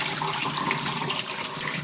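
Rinse water pours out as a container of soaking tamarind pods is drained into a sink for homemade agua fresca, a steady close splashing stream running for the whole moment with no talk.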